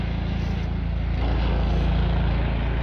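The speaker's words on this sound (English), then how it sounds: "do you know why there's a helicopter hovering around" A helicopter circles over the Wolverton area on a hot day, heard as a steady low rotor drone with a faint rhythmic chop that stays fairly constant and swells slightly midway, with no talk.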